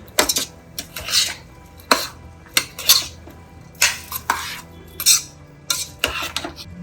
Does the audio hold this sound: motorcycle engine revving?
no